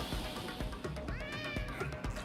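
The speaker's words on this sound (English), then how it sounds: "Yep, you could hear her meowing." Cat Jean meowing in the Travis Strikes Again video game, a few drawn-out meows rising and falling over busy game music and effects.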